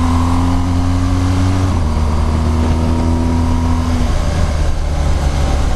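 BMW R1200GS Rallye motorcycle engine at close range, a steady loud drone that shifts pitch abruptly as the auto blipper downshifts, rising in short revs before settling, running continuously with no talk.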